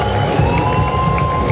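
A crowd at a live Rwandan music performance raises dense, loud cheering and applause, a continuous wash of noise with voices mixed in.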